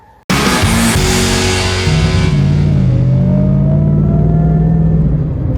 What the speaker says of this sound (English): How's that supercharger one? Oh yeah, sounds awesome